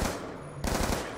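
Close automatic rifle fire in Call of Duty Black Ops 2 Zombies, a loud continuous burst, a short break, then another rapid burst.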